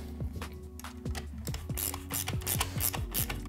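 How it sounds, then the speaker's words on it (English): A spanner tightens the axle nuts on a Xiaomi electric scooter, giving rapid close ratcheting clicks and metallic rubbing in quick repeated strokes, with no talking. "Now that we've tightened the axle nuts"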